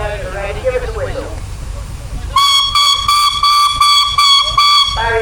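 Steam traction engines at a country show arena let out a chorus of loud, sustained whistles in several overlapping bursts, following a stretch of talk over a public address.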